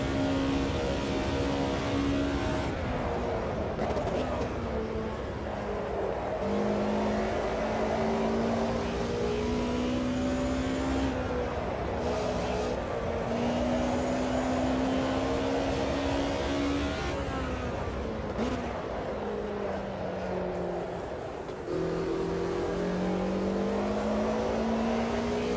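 Audi DTM race car engines in a racing video game at Estoril, a steady, sustained engine drone with pitch rising and falling through gear changes and brief lifts, several cars close together, loud and continuous without talk.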